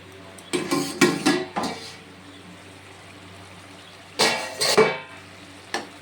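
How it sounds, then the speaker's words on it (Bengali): A spoon stirs curry in a metal pot, giving two bursts of close scraping and clinking with a brief gentle sizzle between them and no talk. "দিয়ে ভালো করে নাড়াচাড়া করে ঢাকা দিয়ে দেবো।"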